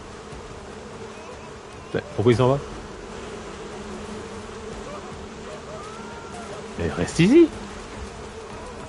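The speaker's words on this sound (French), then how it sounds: "T'as peur de tes abeilles?" Bees buzz in the video game Crimson Desert near a beekeeper, two short close bursts of buzzing against a quiet game ambience, with someone speaking between them.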